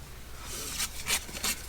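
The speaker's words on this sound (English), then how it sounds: "I just have to trim a bit from the bottom, probably, like that." Paper being trimmed along its bottom edge for a junk journal page, heard as three short scratchy cutting strokes over a low steady hum, fairly quiet and close, with no talk.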